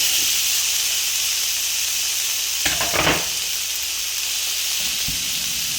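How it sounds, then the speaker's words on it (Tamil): Tomato frying in a pan for prawn masala, a constant loud hissing sizzle with a brief burst of stirring scrapes partway through. "நல்லா ஃப்ரை பண்ணுங்கள் என்னென்னா தக்காளி"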